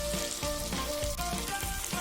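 Onion and spices such as red chili powder sautéing in a pan for a potato and green peas curry, a steady close sizzle with clicking stir strokes and periodic scraping bursts, no talking.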